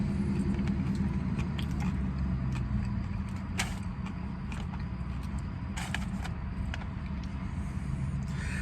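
Someone bites into Jack in the Box tacos inside a parked car, with scattered crisp crunching over a constant low engine-like rumble that fills the whole stretch, with no talking.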